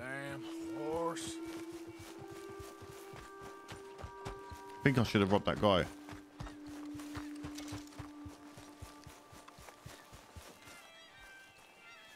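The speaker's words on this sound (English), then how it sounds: "Damn horse." Horse hooves in the video game Red Dead Redemption 2 clop in a fast, steady rhythm throughout, with a whinny near the start and a louder burst midway, while someone talks over the galloping.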